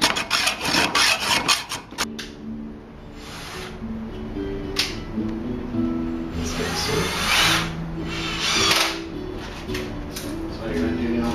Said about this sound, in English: And James is sawing through a metal rod?